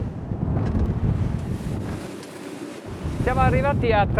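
A Selva D 900 Evolution motorboat runs at 30 knots, its engines near 3,400 RPM, with steady rushing wind and water noise throughout and a voice talking briefly near the end.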